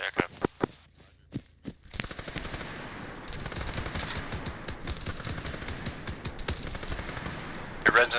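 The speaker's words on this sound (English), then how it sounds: "Red's under heavy fire." Gunfire in the military game Arma 3: a few sharp, separate shots at first, then a sustained barrage of heavy automatic fire and rattling bursts that fills the rest of the clip.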